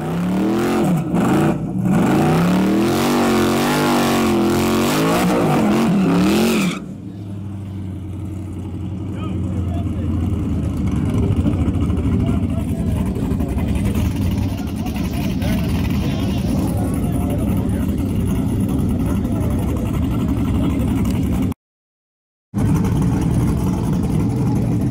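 No-prep Chevy drag race cars roar loudly with turbo engines, revving hard at first and then holding a long, sustained, full-throttle drone, broken by a brief dropout near the end.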